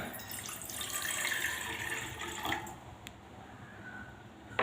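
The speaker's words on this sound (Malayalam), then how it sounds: "ഒരു പാത്രത്തിൽ ഒരു ഒരു ഗ്ലാസ് വെള്ളം ഒഴിക്കുകയാണ്" A glass of water pours steadily into a pot with a soft, rushing splash that tapers off near the end, ending with a small clink.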